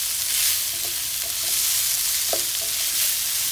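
Gobi Manchurian fries in a hot pan with a broad, steady sizzle, broken by a few scraping stirs of a utensil against the pan, close and loud.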